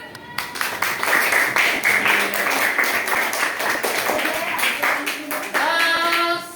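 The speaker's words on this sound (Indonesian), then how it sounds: "Tepuk tangan." Children in an elementary classroom clap their hands together in a rhythmic pattern of sharp, distinct claps, close and fairly loud, with faint voices mixed in.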